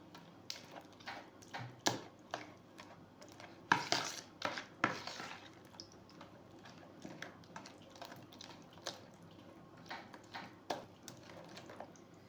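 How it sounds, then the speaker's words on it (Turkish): A spoon works poğaça dough ingredients and butter in a bowl, producing soft scraping stirs and light clinks against the dish, close and quiet, with a few louder knocks partway through. "Şimdi yine malzemelerimi karıştırıyorum unumu almadan önce."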